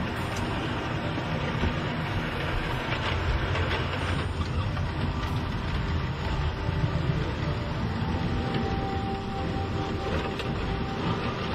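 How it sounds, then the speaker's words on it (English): A small model railway shunter locomotive pulls three carriages around a layout, giving a steady close rumble and whirr of motor and wheels on track that runs without a break. "We'll use the small shunter to bring three carriages round to the station."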